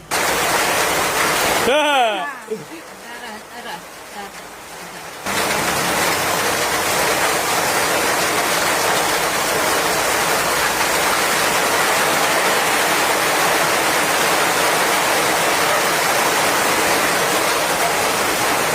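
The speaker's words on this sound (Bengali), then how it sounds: "বৃষ্টি হইতে লাগছে" Heavy rain pours down in a steady, dense hiss close by; after a short quieter break near the start, the downpour returns loud and unbroken for the rest.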